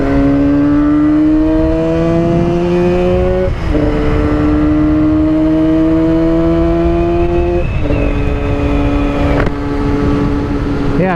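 A two-stroke motorcycle engine runs loud and close, a smooth buzzing drone that rises in pitch through each gear before dropping and climbing again.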